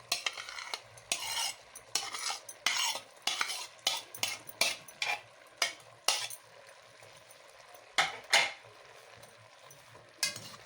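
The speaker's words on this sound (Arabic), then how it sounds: "دلوقتي هننزل بالبصل والفلفل الالوان" Onions and colored bell peppers stirred in a pan with a spoon, a string of scraping, clinking strokes at an uneven rhythm, close and fairly loud over a faint sizzle.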